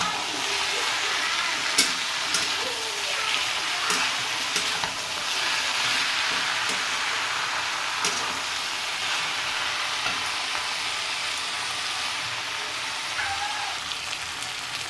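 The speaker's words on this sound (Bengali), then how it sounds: "উপর থেকে সব মূল পাতা একসাথে দিয়ে দেবো ভালো করে নেড়ে নেব" Radish leaves and a fish head frying together in a pan, with a continuous sizzle and repeated stirring clatters and scrapes close by.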